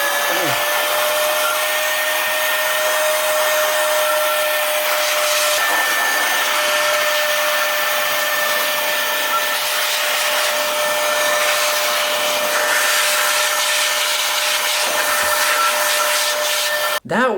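ALPTHY cordless electric air duster blasting caked dust out of a router's vents, a loud, steady, high-pitched motor whine and rushing airflow held without a break until a sudden cutoff at the end.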